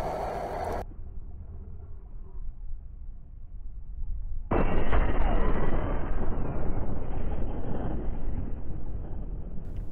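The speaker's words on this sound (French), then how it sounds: "Je prends juste l'arme et je pense que le Yeti doit pas être très très loin." A loud gunshot-like boom, aimed at a Sasquatch in GTA 5, cuts in partway through and gives way to a sustained roaring rumble, close and heavy, with a duller roar before it and no talking.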